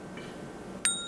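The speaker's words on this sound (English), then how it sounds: "Hit that bell." A short notification bell sound effect, one bright ding striking near the end after quiet room tone.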